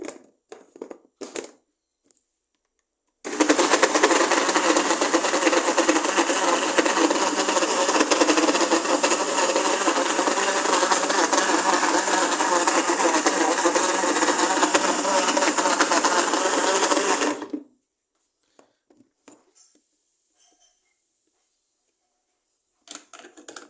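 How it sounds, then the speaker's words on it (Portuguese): A blender whirs loudly and steadily for about fourteen seconds while an orange tumbles inside the jar to strip its peel, preceded and followed by brief handling noises and near silence. "tutorialzinho aí pra como descascar laranja no liquidificador."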